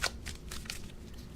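Tarot cards are shuffled by hand in a quick series of soft riffling, papery bursts, close and fairly quiet, with no voice over them.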